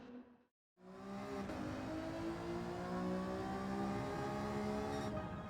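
An Alfa Romeo 155 2.5 V6 TI '93 race car in Gran Turismo 7 accelerates hard after a brief silent gap, its V6 engine note rising in steady, strongly harmonic revving through the gears.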